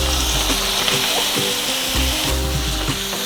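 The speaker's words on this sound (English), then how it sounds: "This is my beef grinder." Ground beef browning in a pan while a grinder tool breaks it up, a dense steady sizzle with repeated scraping strokes, close and fairly loud, no voices.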